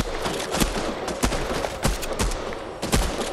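SMG fire in Fortnite, a rapid string of sharp gunshots in irregular bursts over steady background noise, close and prominent with no talk.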